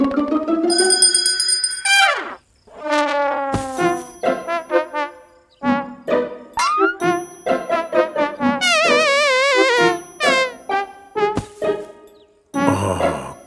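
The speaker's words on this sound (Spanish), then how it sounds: "¿Eso que suena no es una campana?" Bright chiming bell-like tones ring out in a lively melodic sequence, loud and close, with tinkling notes and short pauses between phrases.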